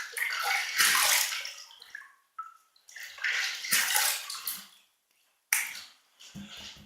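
A Merkur Futur safety razor is rinsed under running water after the first shaving pass with Tabac soap. Several close, fairly loud bursts of splashing water are separated by short pauses, and no one speaks.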